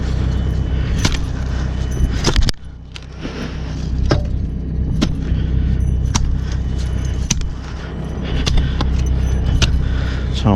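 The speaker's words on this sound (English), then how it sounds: "Sound like a Christmas elf with these staples in my pocket." Metal fencing staples jingle and clink in a pocket, a steady close jangling with brief bright rattles over a low vehicle or engine hum in the background, with a short pause partway through.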